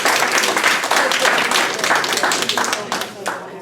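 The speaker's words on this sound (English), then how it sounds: "give yourself a round of applause" Participants at a commercial avenue revitalization meeting break into loud, close applause, a thick burst of many hands that stays strong and then tapers slightly near the end.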